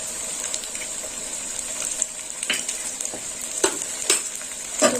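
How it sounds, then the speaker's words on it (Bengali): Ginger paste and green chili paste fry in a pan under a steady hiss, while a spoon stirs and scrapes through it in irregular clinks and scuffs, close and moderately loud. "ভালো করে নেড়ে ছেড়ে নেব"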